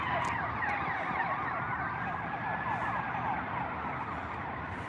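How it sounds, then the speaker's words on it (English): A wailing ambulance siren sweeps up and down over steady traffic rumble, loud and close as it passes by. "let me let this ambulance go by."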